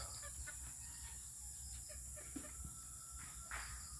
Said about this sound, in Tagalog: Ito yung mga tandang ko.